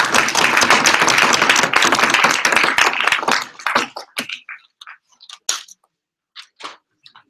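An audience at a debate grand final bursts into dense applause that holds for several seconds, then thins into a few scattered claps and taps before falling silent.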